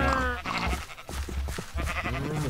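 Sheep in the Minecraft video game bleat several times in quick succession, loud and close, with a few short gaps between the wavering cries.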